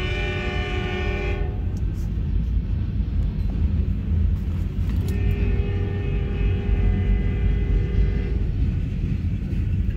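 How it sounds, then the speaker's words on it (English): Norfolk Southern local freight L81, led by locomotive NS 9259, rumbles through the Maple Street and High Street crossing in Eaton, Ohio, its horn sounding in two long blasts over a continuous heavy engine and rail roar. "This is the local train going down to Camden."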